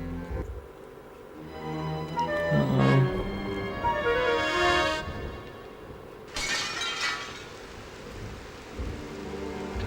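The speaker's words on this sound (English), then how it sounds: "Mooncalf jumped screaming through the stained glass window and began to climb the temple." Stained glass window shattering in the video game Discworld Noir, a loud crashing burst of breaking glass with scattered falling shards, followed by a second bright crash of debris a few seconds later.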